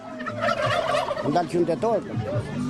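Turkeys at a turkey fair in Peqin, Albania, gobble repeatedly in close, overlapping rattling bursts, with several birds calling at once throughout.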